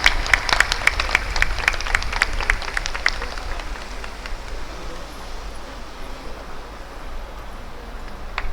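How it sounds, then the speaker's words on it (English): Audience applause welcoming guests at an engineering block inauguration, a steady patter of clapping that starts fuller and thins out into a softer, sustained wash of hands over several seconds. "Let us all give them a huge round of applause and give them a hearty and warm welcome."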